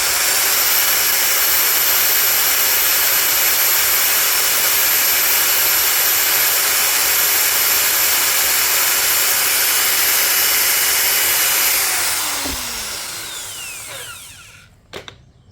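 DongCheng DSP02-180S car polisher running at speed setting 6, a loud steady high-pitched motor whine held for about twelve seconds before spinning down and fading to near silence.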